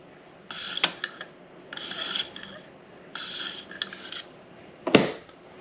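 KME knife sharpener stone drawn across a knife blade, four rasping strokes in an even rhythm with a sharper scrape at the end, close and quiet with no voices.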